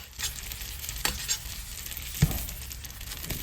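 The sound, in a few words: chicken breast frying with butter in stainless steel pan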